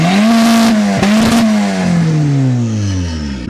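A turbocharged Mazda Miata on ten-year-old rear tires at 50 PSI revs hard and loud up close, its engine note climbing, then wavering and sliding down as the tires spin. No voices are heard.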